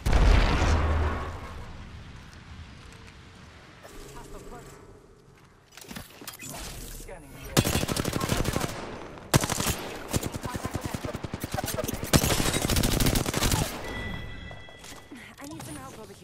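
Gunfire and bursts of automatic weapon fire from an Apex Legends match, loud and repeated in dense volleys with sharp pops and booms, some stretches quieter between clusters of shots.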